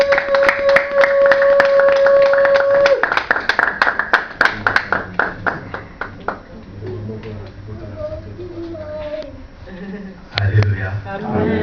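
A church congregation clapping at a Sunday service, sharp rhythmic hand claps over a held musical tone that fade into scattered claps while a voice speaks and acclaims.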